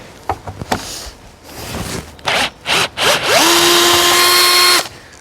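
Power tool driving out stuck screws from the door of a David Brown 885 tractor: several short bursts, then a long steady high whine that stops abruptly, close and loud.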